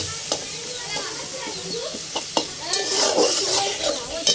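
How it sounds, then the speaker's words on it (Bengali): Spice paste frying in a pan for a dried fish curry, stirred with a utensil: soft sizzling with scraping strokes and occasional clinks against the pan, close and fairly loud. "এখন এই যে সুন্দর করে নাড়া দেবো।"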